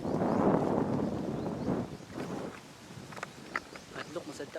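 Gusty wind buffets the microphone on an open mountain summit during a hike, loud and rumbling at first, then easing into lighter gusts while people talk nearby.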